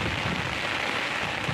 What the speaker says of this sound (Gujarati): અત્યારે પણ ભાઈ વરસાદ